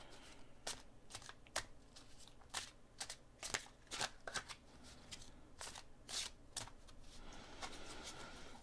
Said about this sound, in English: I love the sounds of shuffled cards.